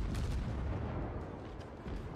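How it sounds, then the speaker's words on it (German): A ship blows up in the naval combat game World of Warships, a deep, rumbling boom with rolling low-end thunder that fades slowly over a couple of seconds, heavy and close with no voice over it. "der wurde schon zerstört, aber auch die Explosion sehr schön"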